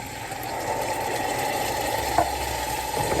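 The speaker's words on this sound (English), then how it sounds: "I'm going to put it up higher so you can hear the sizzle" Meatballs frying in a hot pan give a steady, close sizzle with a brief stir or clank partway through; no one speaks.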